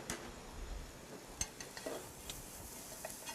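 Dewatered deodeok root with a pinch of salt stir-fried briefly in perilla or sesame oil, a quiet, low sizzle broken by a few soft scrapes and taps of the spatula against the pan, close and without speech.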